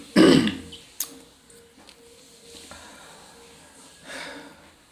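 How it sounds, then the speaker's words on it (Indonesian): A loud, close throat clearing with a harsh cough burst at the start, followed by a couple of softer coughs and quiet breathing. "Masih batuk-batuk ini."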